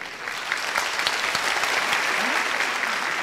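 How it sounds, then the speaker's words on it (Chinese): A crowd in a hall applauds to welcome a speaker, dense and steady clapping that keeps up throughout with no break. "掌声欢迎"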